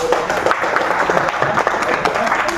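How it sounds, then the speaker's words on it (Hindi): Applause from an audience of government staff watching a magic show in a collectorate meeting hall, dense steady clapping throughout with voices mixed in. "कला बता देता हूँ, ताली बज जाती है"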